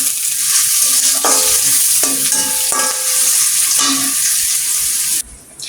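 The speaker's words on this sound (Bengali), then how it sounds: "দেখো আমি এখন তেল দিব, দিয়ে এটা লাল করে ভেজে নেব" Hot oil fries loudly and steadily in a pan for chicken legs, a dense continuous sizzle with a few stirring scrapes, dropping off sharply just before the end.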